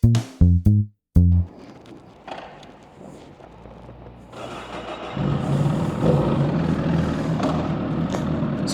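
A Honda Fireblade motorcycle engine, sounding a bit knocky, starts after a few sharp thumps, then settles into a rough, continuous idle that swells louder partway through, close and alone.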